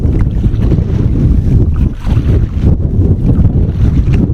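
Steady, loud wind gusting across the microphone on the River Slea during a single-day canoe trip, a continuous low roar with brief lulls and swells throughout, no voices.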